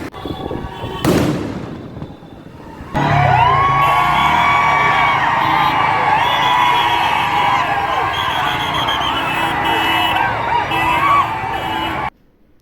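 Street crowd on FC Road celebrating an RCB IPL win, with a loud burst of firecrackers followed by a sustained roar of cheering, whooping and horns that stays loud until it cuts off abruptly.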